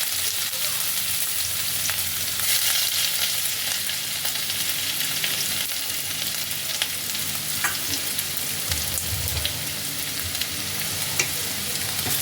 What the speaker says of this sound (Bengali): তেলের মধ্যে এবার আমি দিয়ে দিচ্ছি আদা রসুন কুচি।